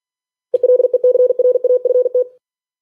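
Morse code CW signal on a ham radio with LMS noise reduction, a clean steady tone keyed in quick dots and dashes for about two seconds, loud and close against near silence.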